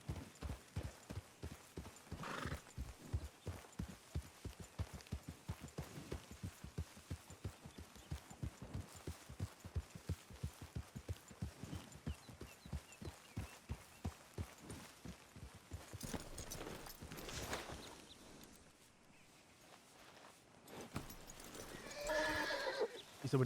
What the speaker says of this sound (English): A single horse.